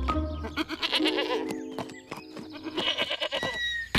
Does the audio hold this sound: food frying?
no